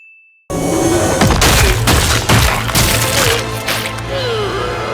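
Bombs explode in a Demon Slayer anime fight scene: after a brief tone and silence, loud booming blasts and crashing impacts burst in several waves over a sustained rumble.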